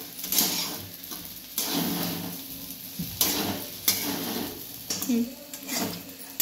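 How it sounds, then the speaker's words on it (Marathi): Sago pearls are stirred and roasted in a pan over low gas, with a steady soft sizzle broken by repeated scraping strokes of a spoon against the pan, close by; a voice talks throughout. "असा छान गॅस कमी करून छान असं हलवून भाजून घ्यायचं बघा।"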